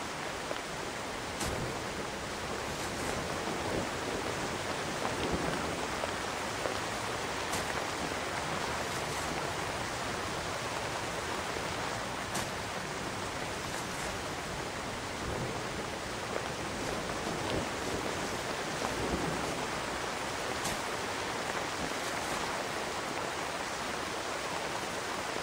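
Rain in the Yandere School video game, heard as a steady, faint hiss of falling water that continues evenly for about twenty-five seconds with no voices.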